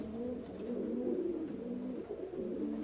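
Pigeons from the Grigorov line coo steadily at close range, a continuous low rolling murmur of overlapping calls with no voices over it.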